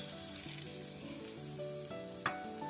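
Ginger, cinnamon, cloves and pepper frying in a pan for bus-style chicken sambar, a soft steady sizzle with light stirring, under faint background tones.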